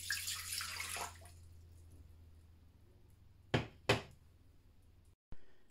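Water poured into a mixing bowl for bagel dough, a steady broadband rush for about a second that then fades, followed by a couple of sharp knocks and a clunk against a low background hum.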